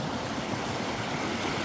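Buffalo River flowing in rural Cherokee country, a steady broadband rush of moving water mixed with some wind buffeting, continuous and fairly loud, with no talking.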